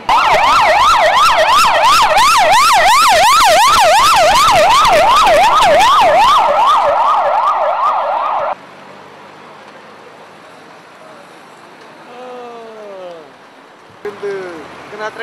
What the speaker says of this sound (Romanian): a trecut salvarea